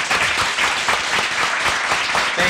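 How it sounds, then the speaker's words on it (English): Loud, dense applause from an audience at WAMFEST 2012 for Mark Morris, a continuous wash of clapping close up and without pause. "So I would like a big round of applause for Mark Morris"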